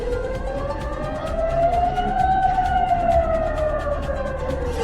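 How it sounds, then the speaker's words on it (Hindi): Wailing air raid siren in Israel during an Iranian missile attack, one loud sustained tone slowly rising and falling, with no voices over it. "जब आसमान में ईरान की मिसाइल नजर आती है तो इजराइल में सायरन बजने लगता है."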